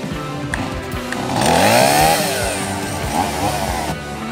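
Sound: trimming dead branches, likely with a chainsaw

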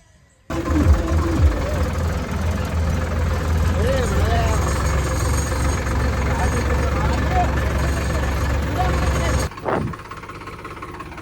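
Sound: Solis tractor engine running

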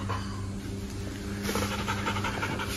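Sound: golden retriever dog panting

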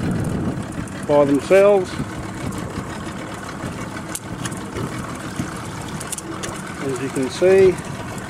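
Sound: boat motor running slowly while setting longline

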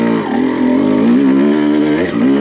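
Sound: CR250 motocross bike revving on a steep hill

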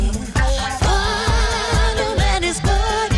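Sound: excerpt of the band's single played on radio

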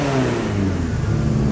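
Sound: modified car revving on launch control

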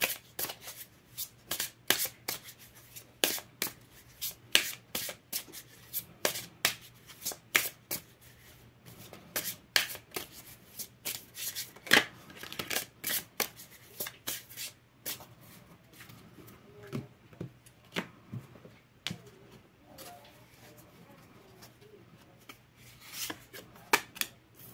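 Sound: shuffling a deck of tarot cards

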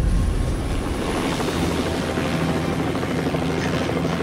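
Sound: helicopter flying away in video game Hitman

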